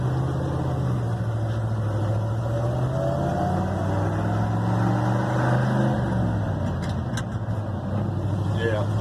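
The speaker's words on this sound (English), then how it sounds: "just so you can hear how the thing drives" A 1972 Ford F100 truck cruises on pavement, its engine a steady loud drone with rising and falling pitch during gear changes, heard from inside the cab along with a few light clicks.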